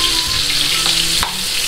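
Beef steak and onion frying in a pan, a steady close sizzle and crackle throughout with a brief clatter near the end.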